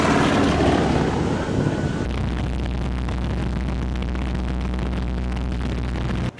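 A skydiving jump plane moves along a runway, a loud, steady propeller and engine roar with broadband noise that eases slightly after the first two seconds and then holds constant.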